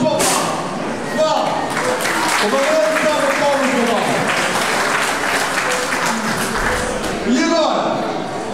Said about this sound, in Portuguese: E uma grande salva de palmas para o Paulo